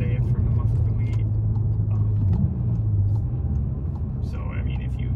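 A VW Mk7 GTI with a muffler delete drones along at steady speed with a low exhaust rumble, heard from inside the car, while a person speaks over it.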